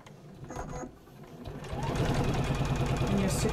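A sewing machine top-stitches a fabric pouch with wadding underneath, its fast steady needle whir starting after a quiet moment and running loud and close to the end.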